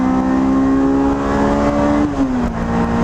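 A Honda F20C four-cylinder engine pulls hard under full throttle, giving a loud, steady, high-pitched rev that holds and then dips slightly near the end, heard from inside the car.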